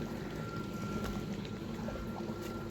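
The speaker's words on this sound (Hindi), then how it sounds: "देख रहे हैं पानी जा रहा है खेत में।" Irrigation water from a tubewell running into a farm field at night, a steady low rushing and gurgling wash that stays even and continuous throughout, with no voices.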